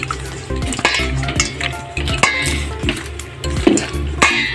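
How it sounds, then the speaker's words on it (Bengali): Onion fritters (piyaji) frying in hot oil in a home kitchen, a steady close sizzle with repeated stirring scrapes and light utensil clinks throughout. "এখানে পেঁয়াজি ভাজা হচ্ছে।"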